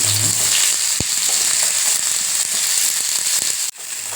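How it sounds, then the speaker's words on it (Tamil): Steady crackling sizzle of chopped small onions (shallots) sautéing in hot oil for a dry fish gravy, close and continuous, with a brief clink near the start and a short dip near the end. "இப்படி நல்லா பதமாக வதக்கணும்"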